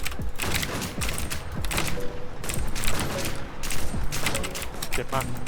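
Rapid bursts of gunfire in an online shooter game, dense repeated cracks layered over one another throughout, with players talking over the shooting.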